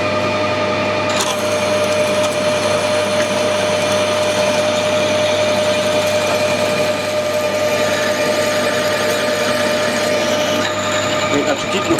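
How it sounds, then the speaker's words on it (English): A 10mm clearance drill cuts a bolt hole in metal for a motorbike steady bar, with a continuous loud motor drone and steady whine, a brief change near the start and end, and a voice talking over it. "This is 10mm, so that's clearance drill."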